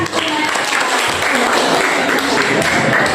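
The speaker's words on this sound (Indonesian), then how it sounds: "Oke, beri tepuk tangan." A physics class applauds after an answer, a burst of close, lively clapping from students with some voices mixed in, sustained throughout.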